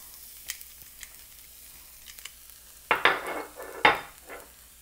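Garlic dropped into hot oil in a pan gives two bursts of crackling sizzle that fade, after a few faint clinks of utensils and quiet kitchen background.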